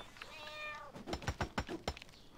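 Several short cat meows ring out alone in quick succession, fairly close and clear, preceded by a soft tonal in-game sound during Black Desert Online play.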